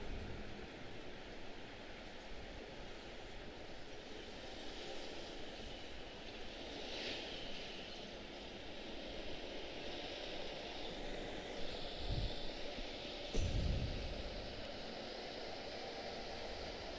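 A Boeing 767-300 jet at Washington Dulles airport gives off a steady, distant engine roar that swells slightly toward the end, heard faintly as a soft airport background drone.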